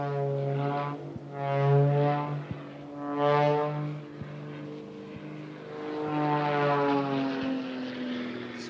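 Propeller aerobatic aircraft pulling hard up through a loop at the Biggin Hill airshow, its engine droning steadily with rising and falling pitch as it passes, fairly distant, no talk.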